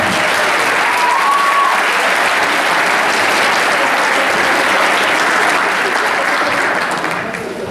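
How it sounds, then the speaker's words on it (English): Audience applause at a school winter band concert honoring students, a dense sustained clapping that holds steady and loud throughout, tapering slightly at the end. "So if you could just give a round of applause to all those students who have challenged at all."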